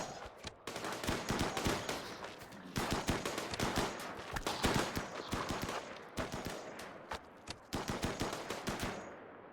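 Rapid bursts of automatic gunfire blast at a flesh beast in the RimWorld video game, several clustered volleys of sharp shots separated by brief pauses, loud and alone without talk.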